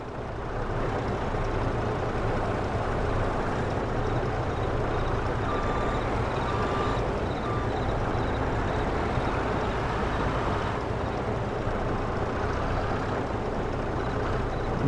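Truck reversing a big trailer in Farming Simulator 22: steady engine rumble fills the clip, with faint, thin beeps repeating in a short run near the middle.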